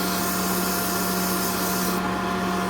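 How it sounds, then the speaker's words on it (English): Steady, close sanding of the end of a wooden skipping rope handle, a continuous even rubbing hiss with a faint motor hum underneath, no pauses. "I don't sand the ends very much"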